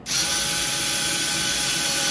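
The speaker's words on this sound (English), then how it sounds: "I need to drill a hole." A power drill drilling a hole whines loudly and steadily, starting abruptly and running continuously close by with no pauses.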